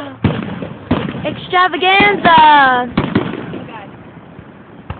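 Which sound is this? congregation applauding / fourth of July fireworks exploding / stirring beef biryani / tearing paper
fourth of July fireworks exploding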